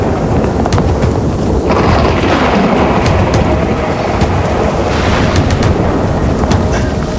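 Close thunder rolls and rumbles during a heavy thunderstorm at an outdoor campsite, with broadband noise of wind and rain throughout and occasional sharp crackles, loud and continuous with no talking.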